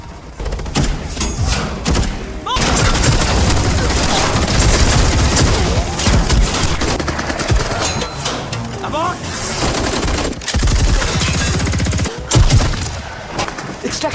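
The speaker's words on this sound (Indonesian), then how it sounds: "Alhasil terjadilah tembak-tembakan epik antara Agni dan anak buah dari Rudafir." Gunfire from an action film's gunfight between a female assassin and a mafia boss's henchmen: rapid bursts and volleys of shots with heavy thuds and booms, loud and nearly continuous, broken by brief pauses.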